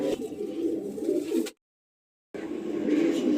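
Pigeons at a home loft coo in low, throaty, rolling calls, close and steady, broken by a sudden cut to silence partway before the cooing resumes.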